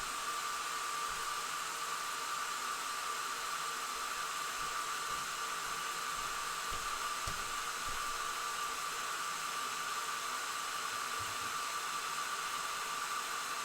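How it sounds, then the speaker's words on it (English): Small hair dryer running steadily at a moderate distance, a constant airy whoosh with a faint motor hum lasting throughout without pause. "let's grab a little hair dryer."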